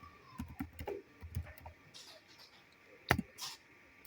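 Keys tapped on a computer keyboard while editing a chart title in an Excel spreadsheet, a few scattered soft clicks with one sharper burst, close and quiet, no talking.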